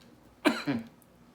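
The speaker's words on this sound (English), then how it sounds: "I have a persistent cough lately." A single short cough, close and fairly loud, with a brief second burst, against a quiet background.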